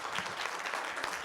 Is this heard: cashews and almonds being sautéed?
no